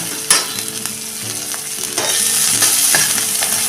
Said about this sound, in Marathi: एक मिनिटभर हे सगळं आता परतून घेऊया